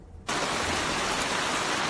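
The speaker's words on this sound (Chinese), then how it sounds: "這個大雨呢，連續下了一個晚上呢" Heavy rain pours down in a dense, steady roar that starts abruptly and stays loud and constant, close by.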